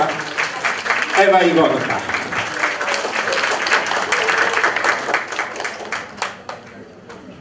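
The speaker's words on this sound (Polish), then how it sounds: "Wielkie brawa Małgosia," An audience applauds at a Christmas Eve concert in a community cultural centre, a loud burst of clapping sustained for several seconds while a presenter speaks over it.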